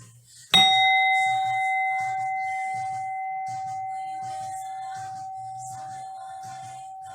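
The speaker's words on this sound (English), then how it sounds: "The next chime." One meditation chime is struck once, a sharp clear ping that then rings on as a long, slowly fading tone. Soft, faint murmurs sit quietly beneath the lingering ring.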